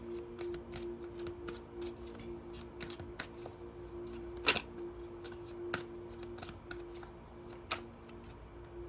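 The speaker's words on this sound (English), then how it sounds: "Let me shuffle." Crisp riffling and soft slaps of cards being shuffled, steady and close, over a faint constant hum.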